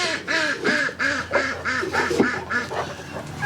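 Ducks quack in a rapid, regular series of loud, nasal calls nearby, one after another with barely a pause.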